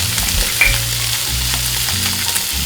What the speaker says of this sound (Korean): 껍질이 밑으로 가게, 이 자기의 기름으로 튀기듯이 구워지거든요